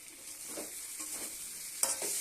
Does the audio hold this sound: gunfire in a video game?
no